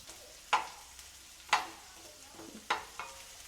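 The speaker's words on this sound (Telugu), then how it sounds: "ఒక గుప్పెడు ఆనియన్స్ని కూడా వేసుకొని వాటిని కూడా పచ్చిదనం పోయేంత వరకు వేయించుకోవాలి" Green chillies and a handful of onions frying in a pan for paneer masala and kushka, with a steady soft sizzle broken by four sharp scraping strokes of a spoon stirring, close and without talk.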